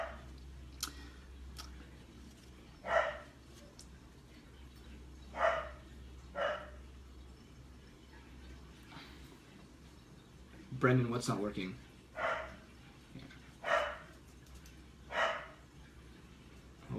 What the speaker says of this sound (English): Oh man, I don't know if you guys hear my dog.